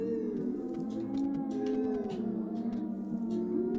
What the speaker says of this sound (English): Get out of here, ghost dogs.